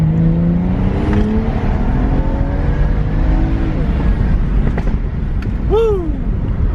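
Car engine climbing under hard throttle in third gear after an XHP install, a loud rising drone heard from inside the cabin, with a brief higher whine near the end.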